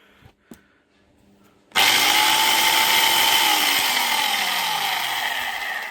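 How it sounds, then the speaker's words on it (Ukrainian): An electric chainsaw with a new Oregon chain and bar switches on after a couple of light clicks, then runs loud and steady at high speed for several seconds. "Пила працює."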